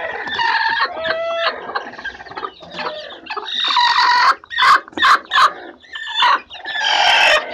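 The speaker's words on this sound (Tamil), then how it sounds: "ஸோ இதுதான் நம்ம மூணாவது கோழி நம்ம இதில் பார்க்க போகிறோம்." A brooding hen sitting on a clutch of eggs clucks loudly and close by in repeated bursts, with other fowl calls and crowing-like cries joining in among the clucks.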